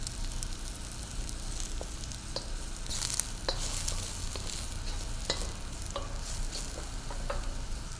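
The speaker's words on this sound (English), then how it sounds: "Stir them around a little bit to lubricate them in that oil, and then I'm just gonna let them hang out and get a nice little golden brown color." Mushrooms fry in oil in a pan with a faint, steady crackling sizzle and occasional light stirring clicks, close but quiet, no voices.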